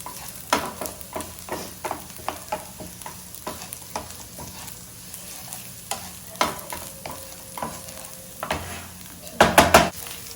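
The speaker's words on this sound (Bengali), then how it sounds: "তো আমার চিকেন আর পেঁয়াজ এটা ভাজা ভাজা হয়ে এসছে" Chicken and onion fry in a little white oil, a steady low sizzle broken by regular scraping stirs of a spatula against the pan, with a louder clattering burst near the end.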